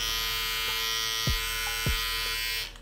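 A Bevel electric beard trimmer runs with a steady high-pitched buzz, fairly quiet and close, with a couple of soft clicks as it is handled and a brief change near the end.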